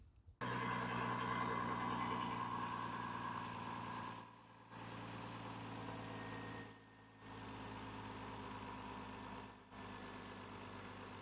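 A GMC Envoy engine idles steadily with a low, constant rumble and hum, running without a break for several seconds and no voices.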